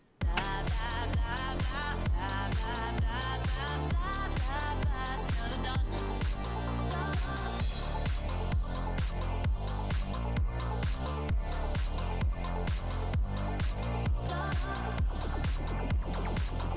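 A layered synthesizer passage with a processed, effected sound over a steady rhythmic beat, full and continuous throughout.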